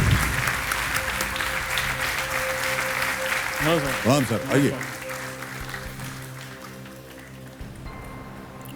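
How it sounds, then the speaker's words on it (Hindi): Studio audience applause on the KBC (Kaun Banega Crorepati) Season 10 game show, a steady wash of clapping that runs throughout while a host's voice speaks over the middle and the clapping fades toward the end. "हेमल शाह जी के लिए तालियां बज जाएं।"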